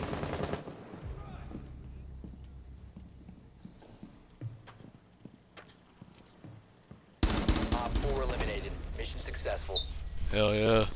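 Gunfire in Rainbow Six Siege: a dense, rapid rattle of automatic shots bursts in loudly partway through, following a stretch of quieter game sounds, with players' voices talking over the action.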